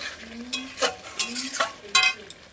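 Potatoes frying with spices in a pan, stirred in a few distinct scraping strokes over a soft sizzle, close and fairly loud, with short gaps between the stirs and no talk.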